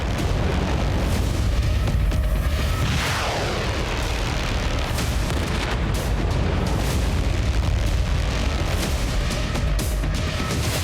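Heavy booming explosions from bombing in Beirut, Lebanon, during the Israel–Hezbollah war, with loud continuous rumble, crackling bursts and a descending whistle-like sweep early on, all dense and sustained without speech.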